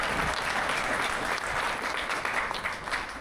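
Applause from a seated assembly at a Jain religious gathering in Bhiwandi, steady and dense, at a moderate, slightly distant level, sustained throughout with no voices.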